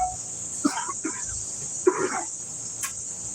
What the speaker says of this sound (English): now I'm coughing